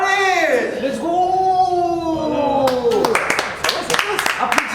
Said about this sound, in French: Applaudissements à la tête, s'il te plaît.